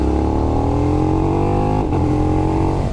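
A KTM Super Duke R motorcycle engine chugs steadily at low revs, around 2,200 rpm in third gear at about 25 mph, a deep continuous rumble close by with a brief dip in pitch midway.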